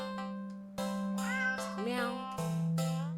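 A black cat meows in the video game Don't Take This Cat Home, several close, clear meows in a row with rising and falling pitch over a steady low hum.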